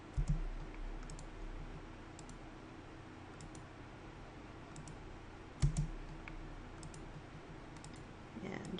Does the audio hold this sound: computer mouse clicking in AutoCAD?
yes